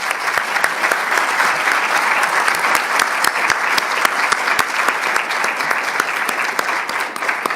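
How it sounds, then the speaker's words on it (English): Conference audience applauding a panel on sin taxes in the Philippines, dense steady clapping from a full room, loud and sustained throughout. "Please join me in giving a big round of applause to this remarkable panel"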